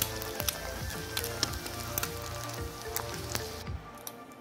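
Egg frying in a pan with bacon fat, a close, steady sizzle with small pops and crackles scattered throughout, no voices.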